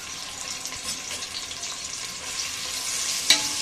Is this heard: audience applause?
no